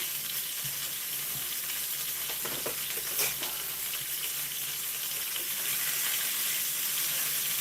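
Meat browning in a hot pan for a steak and Stilton pie crackles and sizzles steadily throughout, close and fairly loud, with occasional stirring scrapes and faint clicks.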